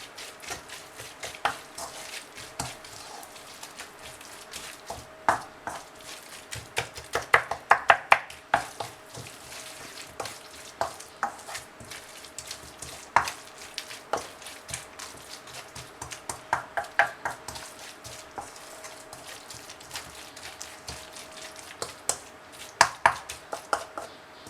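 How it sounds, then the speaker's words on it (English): Stuffed mushroom filling is mixed with crumbled cheese, giving a run of soft, irregular stirring taps and scrapes against a bowl, fairly close, with no voices. "I'm just going to mix this all in."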